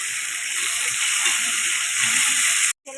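Tomatoes go into a hot pan over ground ginger and salt, setting off a steady, loud, hissing sizzle that runs unbroken and then cuts off abruptly.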